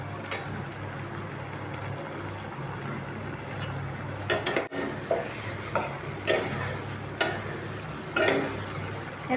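Pointed gourds are tossed into a pan of frying spiced nut paste, bringing a steady sizzle with repeated scraping and stirring clinks from a spatula, close and moderately quiet.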